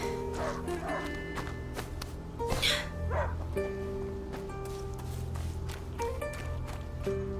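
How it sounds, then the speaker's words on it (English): A dog in the video game A Plague Tale: Innocence barks and yips in short bursts against a busy game soundtrack of music and effects, with a brief whimper in between. "He stopped barking."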